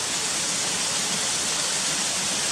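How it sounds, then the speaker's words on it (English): Ashgill waterfall and Cotter Force rush in a steady, dense roar of falling water, loud and close with no gaps or voices. "where the waterfalls run down and go through that little arch tunnel"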